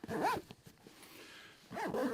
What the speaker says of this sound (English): you got a couple of zippers here with nice leather accent points on them